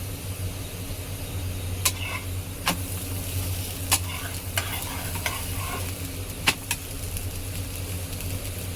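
A buttered aloo paratha roasts on a hot pan, giving a soft, steady sizzle with a low background hum. Sharp spatula scrapes and taps mark the flat frying sound every second or so.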